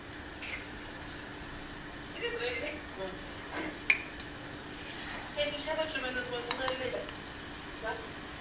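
Faint sizzling of fish shallow-frying in oil, with soft stirring and scraping noises and a few light clinks throughout.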